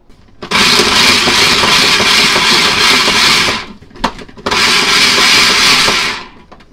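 A food processor pulses pepperoni and sausage in two loud, long whirring bursts, each lasting about three seconds, with a short clunk in the pause between them. Close and dominant, no voices.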